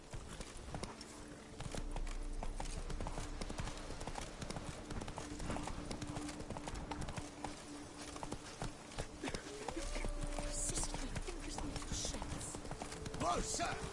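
Galloping hooves of the horse Roach in The Witcher 3, a steady clip-clop rhythm running throughout amid game ambience, with a voice speaking over it at points.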